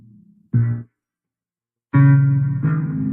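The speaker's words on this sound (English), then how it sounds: "It become more bassier and the pitch has been changed to the lower octaves." Low, slowed-down tones with a deep, bass-heavy pitch, a short burst and then a longer sustained passage after a pause of silence.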